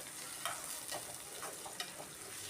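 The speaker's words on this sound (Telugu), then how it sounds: "కాస్త అవి కూడా ఫ్రై అవ్వనివ్వాలి ఆయిల్లో" Green chillies and tomatoes fry in oil for a tomato egg curry, giving a soft, steady sizzle broken by several light stirring scrapes, close but fairly quiet, with no speech.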